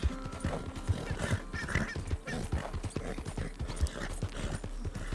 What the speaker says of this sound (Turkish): Şu atlar biraz daha hızlı olsa ya.